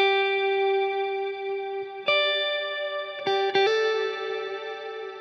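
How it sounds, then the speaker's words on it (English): An electric guitar plays sustained notes through a Strymon Big Sky reverb pedal set to a very long decay of about six seconds, with mix at noon. Several plucked notes ring out and blur into a smooth, lingering wash, with no talking. "Then we're gonna add some reverb on it to get more sustain and more depth."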